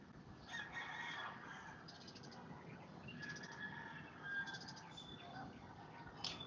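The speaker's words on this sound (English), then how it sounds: "Oh, the cockfighting chickens are over there." Several roosters, kept as fighting cocks, crow at a distance in early morning countryside, overlapping calls rising over a steady background of other birds and rural ambience.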